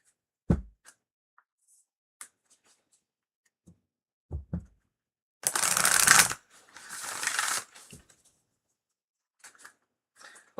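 A Moonology oracle card deck shuffled in a quiet room, with a couple of short riffling bursts in the middle and scattered soft taps and knocks around them.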